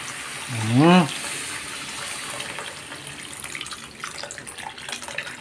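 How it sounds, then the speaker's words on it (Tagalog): Water poured into a cooking pot for a mung bean and pork bone stew, a steady running stream heard close up and continuing through the clip, with a brief vocal sound near the start. "Tapos lagyan natin yung tubig."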